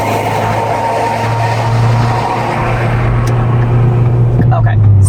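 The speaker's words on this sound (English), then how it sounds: "big damn truck" A large truck rumbles past a vehicle on the road, a steady low engine drone holding close and loud throughout, with a person talking over it.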